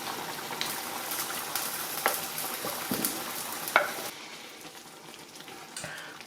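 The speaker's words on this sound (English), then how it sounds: "stir that well so that the flour and the liquids can combine and start to thicken" Pork pie filling with flour and liquids stirred in a pan, soft sizzling with wet scraping and a few sharp spoon clicks against the pan before the sound drops quieter near the end.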